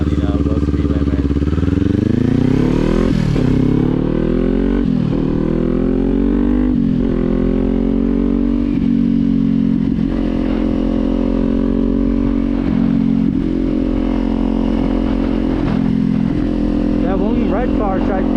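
Kawasaki Z400 motorcycle with an aftermarket exhaust revving and accelerating through several gear changes, a loud, rasping note rising and dropping repeatedly, close to the rider and alone without talk.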